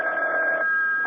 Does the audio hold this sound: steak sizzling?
no